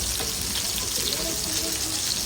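Thin fish fillets frying in a small amount of oil in a pan, a steady close sizzle and crackle throughout with no breaks, faint low kitchen background underneath.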